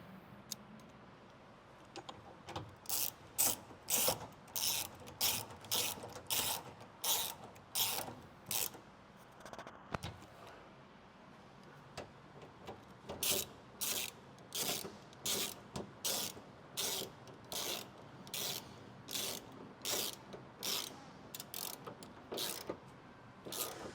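A ratchet tightening the mounting bolts of an S&B 36-gallon under-mount water tank on a Ram Promaster van, with repeated rhythmic bursts of sharp close clicking and brief pauses between strokes, no talking.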